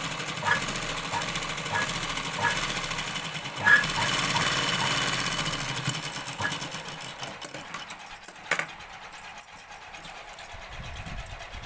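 A sewing machine stitches a long frock made from an old saree, running as a steady, rapid mechanical whir that slows and breaks off near the end.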